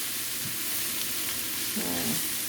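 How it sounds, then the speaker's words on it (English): Ackee and saltfish stir-fry sautéing in a pan, a faint steady sizzle with a brief soft scrape near the end, no voices. "we're doing a stir fry, okay? So we just want to saute everything"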